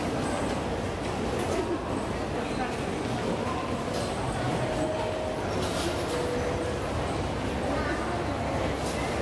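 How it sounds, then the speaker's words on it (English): Busy indoor bustle at Sendai Station in Japan, a dense wash of crowd murmur, footsteps and distant train rumble, with faint tonal chimes and announcements surfacing now and then. "This is Sendai Station"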